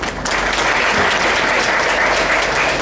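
Applause at a farewell gathering fills the space as steady, dense clapping from a crowd of people, loud and sustained throughout without pause.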